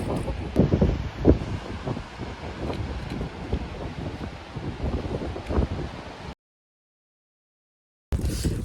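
Gusty wind buffets the microphone outdoors in the Korean countryside, a rough, rumbling rush with rustling, swelling and easing, then a short dropout of silence before it resumes.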